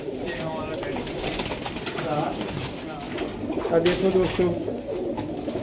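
Young pigeons in a loft coo softly in low, repeated throaty calls against a busy background, with someone speaking over them.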